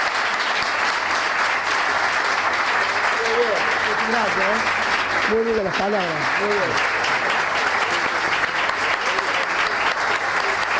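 A conference audience gives the mayor of São Paulo, Fernando Haddad, a steady, loud round of applause lasting the whole stretch, while someone speaks briefly over it.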